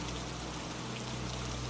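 Steady rain falls in a continuous, even wash with no breaks, a soft constant hiss and patter at moderate level with a faint low rumble beneath and no voices.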